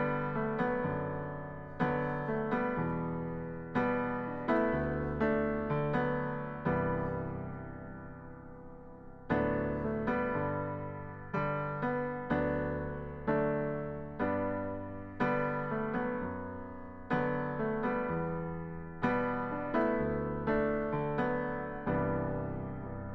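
Solo piano plays the intro and verse of a song, with repeated chord strikes that decay between phrases and a short pause near the middle, heard alone and close with no voices.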